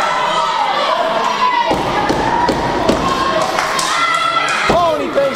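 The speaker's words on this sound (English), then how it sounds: "he bangs his head right off the apron" Wrestling match in a ring: a wrestler's head slams off the ring apron, giving heavy thuds and impacts amid crowd noise and an excited commentator's voice.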